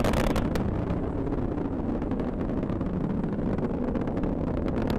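The RD-180 engines of an Atlas V booster roar during ascent, a dense, broadband rumble that holds steady and loud throughout, with crackling texture and wind-like noise and no voices over it.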